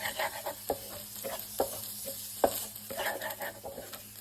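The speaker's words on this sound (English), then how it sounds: "I add a little bit of oil just so the shrimp is cooked." Shrimp sautéing in a little oil in a pan for stir-fry noodles, with a steady sizzle broken by repeated scraping stirs and a few sharper utensil knocks; no one speaks.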